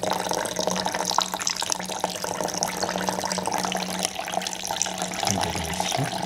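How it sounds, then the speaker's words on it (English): Milk poured into a blender over finely ground blueberry and apple for a blueberry apple ice cream smoothie, a steady close liquid stream running unbroken for several seconds with no voices. "Now pour in 200 to 300 ml of milk."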